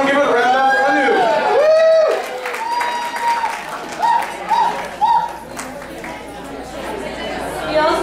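Wedding guests at a sangeet clap and applaud a performer, a dense burst of crowd clapping mixed with cheers and loud voices, with chatter carrying on over it.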